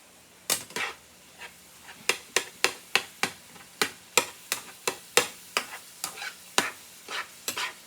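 Ground beef browns in a pan under a faint sizzle, broken by a regular run of sharp utensil taps and scrapes, about twenty in eight seconds.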